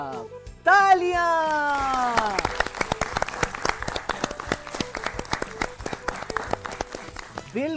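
Studio audience on a quiz show claps for a correct answer, sharp rhythmic claps following a musical sting, fairly close and lively throughout.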